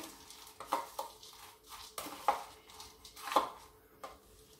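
Scraping and stirring of a caramel-like topping for a twice-baked plum cake, a few soft spoon-against-bowl strokes in an uneven rhythm, close and fairly quiet with no voices.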